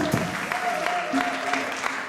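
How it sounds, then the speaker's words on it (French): Steady applause from a church congregation at a consecration service fills the moment, a dense patter of clapping with a faint voice or tone running underneath. "encouragez-le avec les applaudissements"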